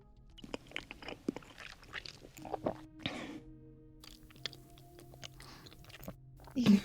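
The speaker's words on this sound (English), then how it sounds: "Ew, chewing noises." Wet chewing and biting from a character eating in the PC game Haven, in soft irregular bursts with pauses, mixed with game ambience and quiet music.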